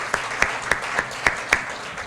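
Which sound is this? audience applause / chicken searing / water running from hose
audience applause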